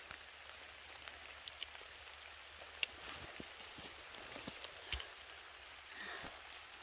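Steady rain patters in a deep forest, with scattered sharper drops striking leaves and surfaces against a constant soft hiss; no voices.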